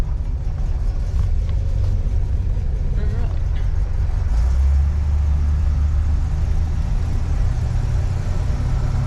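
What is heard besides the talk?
1964 Rambler Ambassador Cross Country Wagon engine, driving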